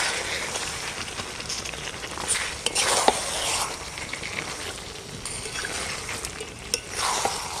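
Chicken sautéed with pureed mango in a pan: a low, steady sizzle runs under repeated scraping and stirring strokes, with a couple of sharp utensil clinks against the pan, all fairly close.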